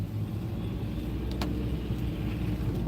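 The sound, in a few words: car driving along Main Street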